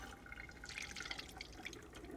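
Dye liquid, set with vinegar, poured out into a sink or container, a soft continuous splashing trickle with light drips, fairly quiet and steady, no talking.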